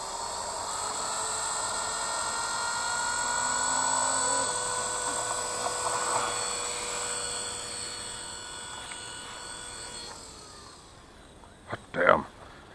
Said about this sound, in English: let's see if this helicopter flies